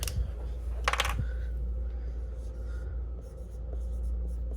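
A few short, scratchy strokes of a pen or marker writing hall pass labels by hand in a classroom, faint against a low steady hum, with most of the writing near the start.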